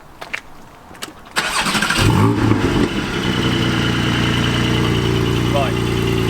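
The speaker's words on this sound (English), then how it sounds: "So the startup will be loud," A Porsche GT4 fires up with its Cargraphic exhaust valves held open: a sharp starter catch, then a loud bark settling into a deep, steady idle rumble that carries on close by with no talk.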